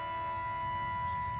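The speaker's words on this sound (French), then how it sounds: "Les sirènes donnent l'alerte." A steady civil defense alert siren drones on in one continuous tone, loud and unbroken, with a low rumble underneath.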